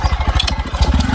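A motorcycle engine putters close by in a quick, uneven rhythm, loud and alone without speech, as if idling or pulling away slowly.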